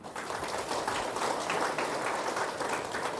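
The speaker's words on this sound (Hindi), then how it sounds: "एक बार ताली बजाओ बीच में," An audience at a spiritual yoga retreat class in Belpahar, Odisha claps together, a steady dense patter of many hands heard at moderate distance and fairly quiet, lasting a few seconds without a break.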